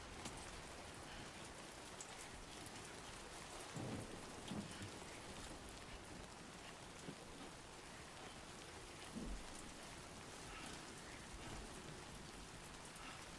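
Heavy rain pours steadily in Death Stranding 2, with a few low thunder rumbles rolling in around the middle and again later, no voices over the storm.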